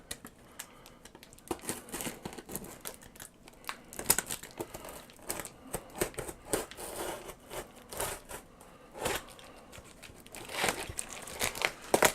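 Taped cardboard laserdisc package being unboxed, with irregular bursts of crinkling, tearing and scraping from close by, alone with no talk.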